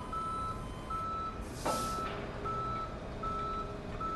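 A tow truck in the video game Police Simulator sounds steady reversing beeps at an even rhythm over a constant engine hum, with a brief hiss of air brakes midway and no talk.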